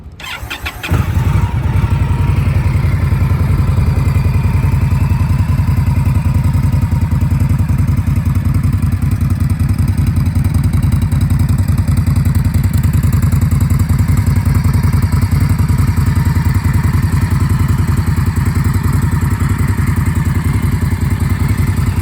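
A 2020 Indian Scout 100th Anniversary motorcycle starts with a brief crank, then its V-twin settles into a loud, close, steady idle rumble lasting the whole stretch, with no voices.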